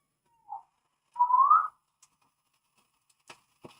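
A short whistled note followed by a longer rising whistle, alone in quiet, then a few faint clicks.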